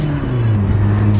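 A Peugeot 106 GTI with a blowing exhaust drones loudly up close, its engine note broken by quick crackling pops and bangs.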